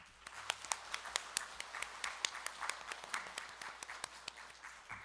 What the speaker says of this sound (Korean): 먼저 이 은총의 자리에 불러주신 주님께 감사의 박수를 먼저 올려드리겠습니다